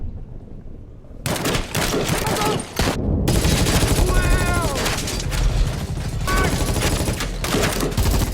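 Heavy gunfire from a film battle scene as mafia soldiers fight a hitman, dense overlapping bursts and rapid shots with booming impacts, loud and continuous after a brief quiet opening, with a short gap partway.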